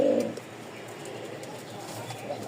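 A pigeon coos once, close and soft, at the start, then a quiet room tone with a faint second coo toward the end.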